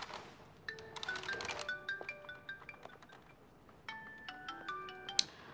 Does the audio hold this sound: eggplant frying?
no